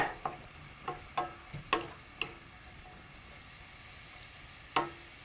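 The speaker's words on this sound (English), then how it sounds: "The onion is starting to" Chopped onion softens in a pan for vegan coconut rice with a faint, quiet sizzle, punctuated by several light ticking stirs and taps of a utensil against the pan. No one speaks.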